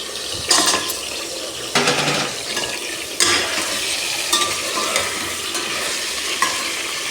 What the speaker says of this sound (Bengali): আর এখানে লং এলাচ দারচিনি সবই দিয়ে দিতেছে